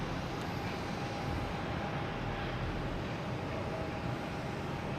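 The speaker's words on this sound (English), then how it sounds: "Still have Spirit Airlines heading out there to Orlando" A Spirit Airlines airplane departing Boston Logan Airport for Orlando roars as a steady, broad distant rumble of jet engines, continuous and moderately faint throughout.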